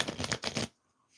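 A quick riffle of tarot cards being shuffled, close and crisp, lasting under a second before falling silent.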